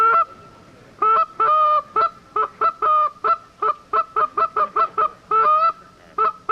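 A handheld waterfowl call blown to imitate a goose at an outdoor sportsman's show, giving a loud, close series of repeated honks in quick irregular bursts, alone without talk.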